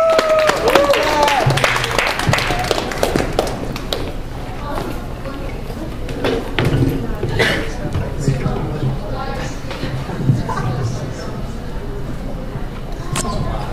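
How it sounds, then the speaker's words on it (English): An audience applauds at a BGSU open-mic night, steady clapping filling the room at moderate volume before gradually thinning out, with occasional murmurs underneath. "Please give him a round of applause."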